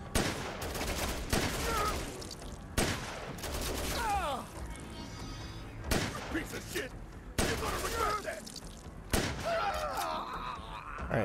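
An enemy gunner in Dead Rising Deluxe Remaster fires repeated loud bursts at regular intervals, each sharp volley separated by brief gaps, with someone talking and groaning in between.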